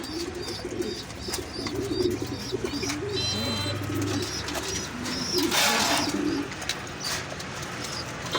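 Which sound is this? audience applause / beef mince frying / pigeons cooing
pigeons cooing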